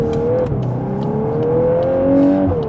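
A Volkswagen Golf R's four-cylinder engine pulls hard under acceleration from inside the cabin, its steady droning tone climbing smoothly with a few light clicks and a brief dip, loud and close.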